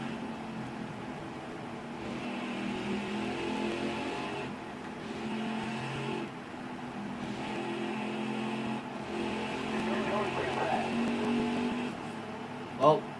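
A large pack of NASCAR Cup Series stock cars in the video game NASCAR Heat 5 drones at Quaker State 400 racing speed, a continuous engine roar swelling and dipping, with a commentator talking over it throughout.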